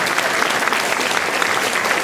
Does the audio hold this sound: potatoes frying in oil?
no